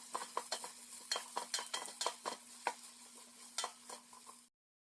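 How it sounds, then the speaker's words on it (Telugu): Bitter gourd pieces are stirred while they fry in a pan: a steady sizzle with repeated scraping, clinking strokes of a spoon against the pan, close and fairly loud, with a faint steady hum underneath, cutting off abruptly near the end. "మధ్య మధ్యలో ఇలా కలుపుతూ వేయించుకోవాలి"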